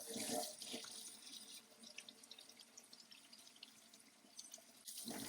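Tap water runs steadily into a sink as a laser-engraved stainless steel piece is rinsed off, a continuous close splashing hiss with small bursts at the start and end.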